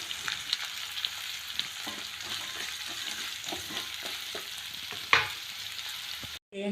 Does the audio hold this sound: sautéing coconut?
yes